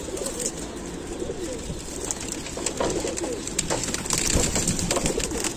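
Several pigeons coo in low, throaty murmurs amid rustling and shuffling, nearby and fairly continuous.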